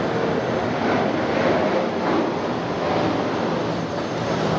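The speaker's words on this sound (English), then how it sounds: "with the plane passing" An airplane passes overhead outdoors, producing a steady, broad engine roar that holds at a fairly constant loudness throughout, with no voices.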